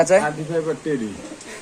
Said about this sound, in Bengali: এই যে এনে আছে কবুতর ভাই এগুলা কি কবুতর ভাই